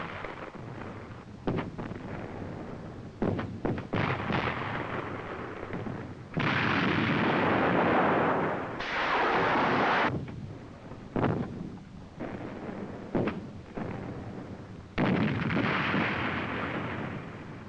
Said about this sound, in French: Je suis sous le feu de l'artillerie